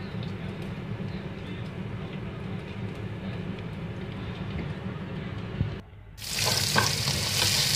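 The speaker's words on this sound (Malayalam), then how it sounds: "ആ പാനിലോട്ട് തന്നെ അരിഞ്ഞു വെച്ചിരിക്കുന്ന സവാള ചേർത്ത്" Sliced onions for paneer butter masala sizzle steadily in a hot pan, a constant close frying hiss that jumps louder and brighter near the end as they are stirred.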